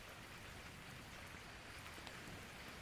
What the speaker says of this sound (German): Es hat wieder angefangen zu regnen.